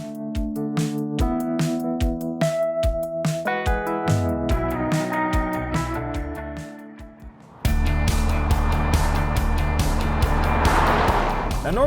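A 2018 Buick Regal TourX sport wagon on the move, a steady, loud wash of engine and road noise rising abruptly partway through after a quieter, tonal opening stretch.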